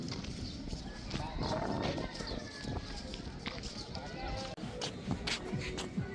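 Horse hooves clip-clop in an uneven rhythm amid a busy outdoor crowd at Jawatha Park, Hofuf, Al-Ahsa, with voices chattering throughout.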